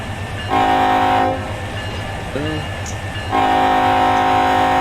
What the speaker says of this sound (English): Test the horn out here.